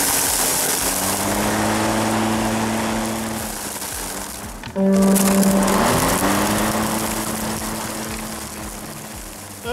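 A Ryobi RY401100 battery-powered lawn mower runs steadily with a whirring motor hum, dips briefly, then surges back louder as the blade spins up again, heard up close with no talking.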